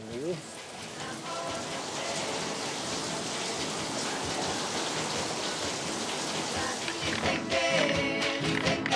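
Rain falls steadily on a rainy afternoon in Chiloé, a dense, even hiss of drops close by that lasts throughout and grows a little busier near the end.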